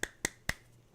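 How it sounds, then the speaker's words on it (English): Three slow, evenly spaced hand claps, close and crisp, ring out in an otherwise quiet room, each a short sharp snap with a brief tail. "Slow clap."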